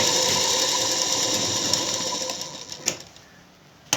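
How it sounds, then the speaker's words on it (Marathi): Sewing machine stitching a blouse strip, a steady fast whirring hum that runs close and loud, then slows and stops near the end with a couple of sharp clicks. "हे बघा आपली पट्टी शिवत आलेली आहे"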